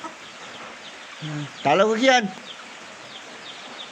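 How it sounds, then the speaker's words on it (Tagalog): Backyard chickens being fed in the morning cluck and call in a short burst close by, with a person talking over them. "Yan guys ang mga manok po ngayon."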